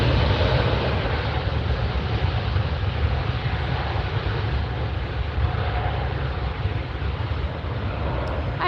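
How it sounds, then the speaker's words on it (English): A British Airways Boeing 777-300ER airliner takes off at LAX, a loud, steady jet roar that holds constant throughout without a voice over it. "There goes the British Airways 777-300ER."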